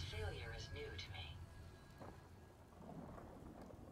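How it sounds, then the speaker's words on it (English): Rain and a rumbling thunderstorm from Fallout 4 hiss and roll steadily at low volume, with a voice speaking briefly near the start. "Raining is a little bit of a concern"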